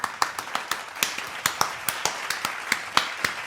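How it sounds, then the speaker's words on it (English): A small group at a BMW talk claps in a sparse, fairly steady rhythm of distinct individual claps, close and moderately loud, lasting a few seconds. "let's give a round of applause for Frank before we start"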